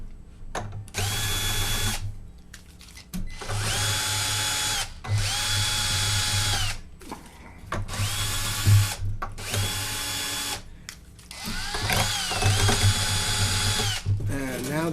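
A power driver whirs in repeated bursts while slackening the strings on a Taylor acoustic guitar, about five loud, close spins that rise and fall in pitch, with short pauses between them and no talking.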